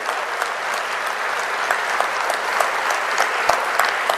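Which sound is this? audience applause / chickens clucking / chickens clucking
audience applause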